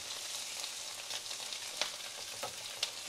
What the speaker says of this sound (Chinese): 煎到啲魚頭香香香地咧